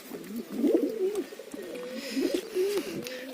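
Pigeons coo softly and repeatedly in low, rolling phrases, close by and fairly quiet, with a faint bit of background noise.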